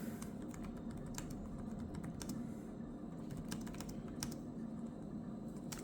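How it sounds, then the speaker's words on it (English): Typing on the keyboard of a Dell XPS 17 9710 laptop: a steady run of close, light key clicks with uneven rhythm, pausing briefly now and then over a low room hum. "let me just write something with Notepad, and you can see how is my typing"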